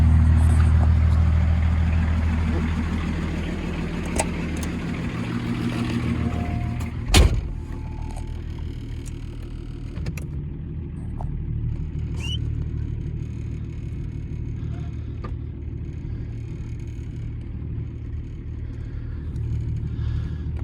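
A 1984 Lincoln Mark VII LSC with a 2.4L turbo diesel gives a steady low rumbling growl through its dual exhaust, heard close and continuous with a single sharp knock partway through.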